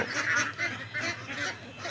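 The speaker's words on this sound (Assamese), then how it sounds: "এতিয়া দেখিবলৈ পাইছে মোৰ হাঁহবোৰ" A flock of farm ducks gives repeated honking quacks in quick bursts, several birds calling over one another at close range.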